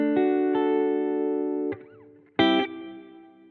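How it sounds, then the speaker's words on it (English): Electric guitar through an Empress Echosystem pedal set to a long, quiet reverb with a barely audible delay: a sustained chord rings and fades, then a second strum blooms and trails off into soft ambience, with no voices. "So it's a longer reverb, but it manages to stay quieter and stay more in the background"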